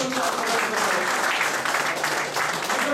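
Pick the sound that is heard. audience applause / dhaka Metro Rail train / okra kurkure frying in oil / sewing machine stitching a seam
audience applause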